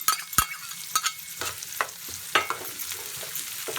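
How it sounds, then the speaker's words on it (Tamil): Onion, green chilli and curry leaves sautéing in hot oil for a Tamil kara paniyaram tiffin, with a steady soft sizzle broken by repeated sharp scrapes and clinks of a spoon stirring the pan, close by. "சேர்த்துட்டு ஒரு 2 நிமிஷம் நல்லா வதக்கிக்கலாம்"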